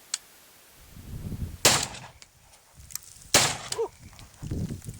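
An AKM rifle without a muzzle device fires two sharp, loud, separate shots outdoors, each a brief blast with some echo trailing after, with quieter rustling and thumps in between.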